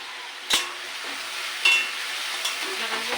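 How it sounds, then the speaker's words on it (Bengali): Potatoes fry with spices in a pan, giving a soft continuous sizzle under several crisp spatula taps and scrapes spaced a second or so apart. "মশলা কষানো হবে তার সাথে আলুটা ভাজি হয়ে যাবে সিদ্ধ তার জন্য আলুটা দিয়ে দিচ্ছি"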